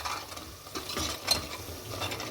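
Chicken masala sautéed in a pan, a low frying sizzle broken by scraping and stirring strokes that come in uneven bursts, close and moderately quiet.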